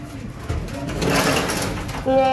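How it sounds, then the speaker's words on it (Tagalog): Racing pigeons coo in a loft, soft throaty murmurs rolling under ongoing talk, with a brief mechanical rattle near the end. "Ay mga ibon natin oh. Gusto na rin umuwi oh."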